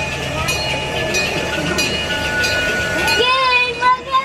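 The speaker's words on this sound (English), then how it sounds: "Alright, so the train's arriving." A zoo train at Topeka Zoo rolls in with a steady mechanical rumble and high squealing tones, ending in a brief brake screech, with faint voices in the background.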